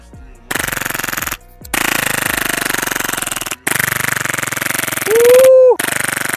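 Rapid bursts of automatic fire from an airsoft rifle, rattling in long strings separated by brief pauses, loud and close, with a mechanical whir between bursts.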